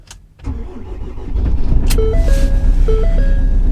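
Ford Transit Custom van engine cranks and fires after a gearbox fitting, a brief starter whir followed by a steady, loud idle that settles in close by, with a few faint electronic beeps over it.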